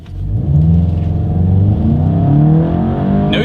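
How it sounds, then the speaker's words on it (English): A Volkswagen Golf GTI accelerates hard from a standstill toward 60 mph, its engine note climbing steadily through a smooth, loud, continuous rising whir heard close up without talk. "0 to 60 in 6 seconds feels wonderful in the Golf GTI"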